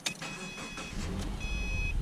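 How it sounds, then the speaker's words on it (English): A Subaru Impreza fires up after a battery replacement: a short whirring crank, then the engine catches into a steady low idle, close by, with a faint tonal chime sounding through it. "Okay, it started this time."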